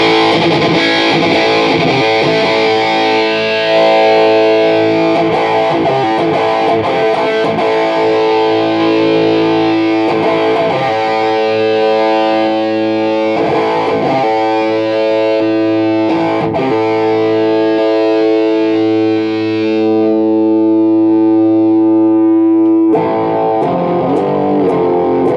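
Heavily distorted electric guitar through a Bogner Alchemist amp head set to 20 watts at under half volume, loud sustained chords and riffs playing alone for the full stretch, with a brief drop near the end before chugging resumes.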